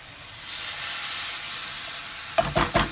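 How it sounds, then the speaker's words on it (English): Canned chopped tomatoes, about 400 grams, tipped into a sizzling pan for chicken tikka chasni: a steady frying hiss fills the pan, then a few louder splattering bursts and stirring scrapes near the end, with no talk. "going to add the chopped tomatoes in"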